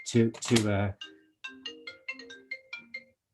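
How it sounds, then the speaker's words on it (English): A mobile phone ringtone goes off during an international trade conference, playing a melodic run of bright electronic notes at moderate volume, right after a brief burst of talk. "First phone to go off today."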